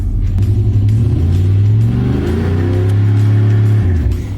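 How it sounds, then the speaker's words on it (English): A Chevy car engine revs up close for a burnout, a loud steady rumble with rising and falling pitch sweeps as the throttle climbs. It stays continuous with no voices and then tails off at the end. "He said do a burnout when I get here."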